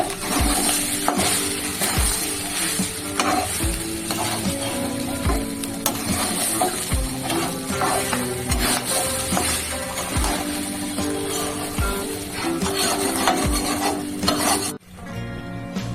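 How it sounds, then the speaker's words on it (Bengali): Rice frying in a pan while being stirred, a continuous rasping sizzle with regular scraping strokes of a spatula, close and fairly loud, ending in a sudden quieter moment, no voices. "ভালো করে ভাজবো"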